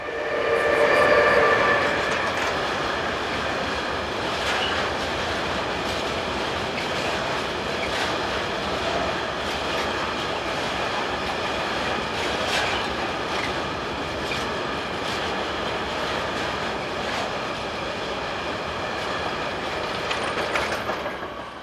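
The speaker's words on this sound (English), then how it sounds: "heads a northbound train of hoppers" A northbound freight train of hopper wagons hauled by CB Rail locomotive BB 37525 rumbles past at night, with a horn blast near the start and then continuous wheel clatter and squeal along the wagons.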